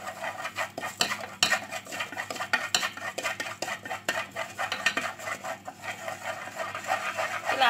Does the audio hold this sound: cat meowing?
no